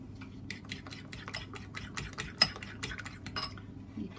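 A utensil stirs milk into a quiche mixture in a bowl, giving rapid rhythmic clinks and scrapes with one louder knock near the middle, close and clear with no talk.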